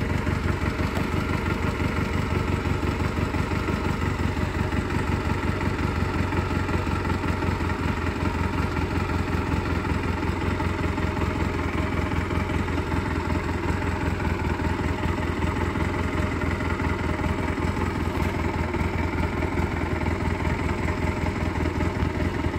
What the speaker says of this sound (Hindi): और अभी मोटरसाइकिल भी स्टार्ट करता हूँ।